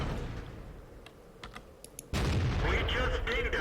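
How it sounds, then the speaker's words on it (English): An E-25 tank machine-gunning a KV-2 in a video game: faint scattered ticks and clicks, then a sudden loud, sustained burst of gunfire that carries on to the end. "Let's see how quickly we can machine gun a KV-2"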